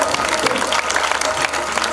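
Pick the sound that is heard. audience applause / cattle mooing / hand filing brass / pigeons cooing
audience applause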